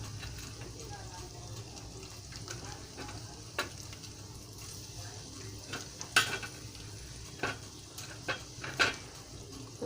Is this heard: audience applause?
no